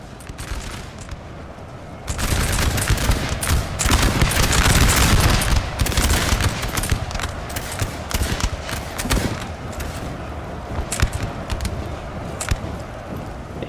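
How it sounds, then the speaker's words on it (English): Austrian troops firing muskets in a large battle in the video game Napoleon Total War, with dense crackling volleys rolling together, then scattered sharp shots popping irregularly at mid distance. "it's just Austria firing on some of Massena's corps."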